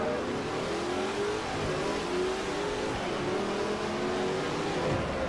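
Race car engine accelerating in Forza Motorsport 4, a Class R3 North American Tour race: loud, continuous revving with rising pitch sweeps through gear changes, alone and without talk.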